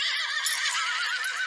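A horse from the animated film Spirit: Stallion of the Cimarron gives one loud, sustained, quavering whinny that fills the whole moment without any talking.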